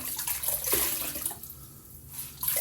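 Tap water runs steadily into a sink as a washcloth is soaked, a close, continuous splashing hiss with a brief drop in the middle before the flow picks up again.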